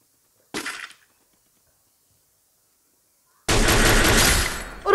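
Gunfire in a multiplayer shooter video game: a short crack of shots, a long silence, then a loud sustained burst of rapid firing lasting over a second.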